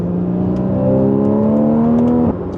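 Porsche 981 Cayman GTS engine revving on throttle, a loud close rising howl from inside the car that climbs steadily for about two seconds, then drops sharply off throttle.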